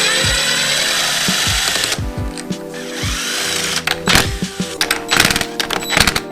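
A power tool whirs loudly as it backs out the pressure spring bolts of a motorcycle clutch, running in a sustained spin and then in several short, sharp bursts close by.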